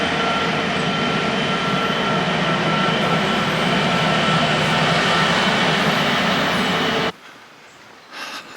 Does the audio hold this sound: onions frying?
no